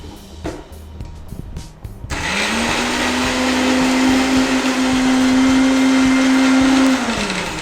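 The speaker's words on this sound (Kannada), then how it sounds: "ಸಣ್ಣಗೆ ಸ್ವಲ್ಪ ಫುಲ್ ನುಣ್ಣಗೆ ರುಬ್ಕೊಳ್ಬೇಕಲ್ಲ" Electric mixer grinder grinding cucumber idli batter to a fine paste: a brief clatter, then the motor surges into a loud, steady whine that holds for about five seconds before winding down.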